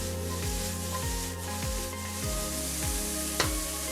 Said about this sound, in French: en attendant que les légumes suent